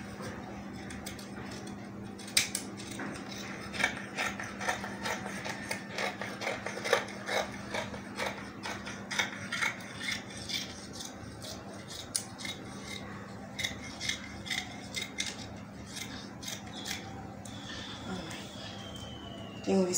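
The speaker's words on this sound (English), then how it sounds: "I'm going to cut it out now." Scissors cut through fabric for a cowl kaftan maxi dress, giving a quiet series of irregular snipping and rustling sounds over a faint steady hum.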